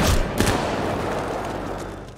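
A single gunshot in an action film fight scene, a sharp thudding bang at the start followed by a short echoing decay and low rumbling background.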